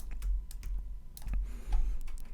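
Computer keyboard being typed on during Photoshop shortcut use: a quick run of close, crisp key clicks and taps at an uneven pace, fairly quiet with no talking.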